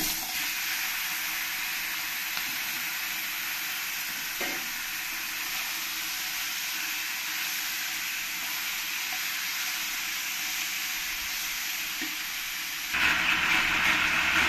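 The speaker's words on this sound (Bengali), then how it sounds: "এবার আমি এই তেলের মধ্যে এই চিকেনগুলোকে একটু ফ্রাই করে নেব।" Chicken frying in hot oil gives a constant hissing sizzle that holds steady throughout and swells louder near the end, with no talking.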